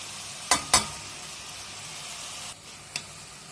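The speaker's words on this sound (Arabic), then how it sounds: "صافي نخلطوهم ونخليهم يتقلاو" Onion and red pumpkin with salt, spices and garlic frying in a little oil in a pot, a steady soft sizzle with two sharp stirring clatters near the start and a faint scrape later.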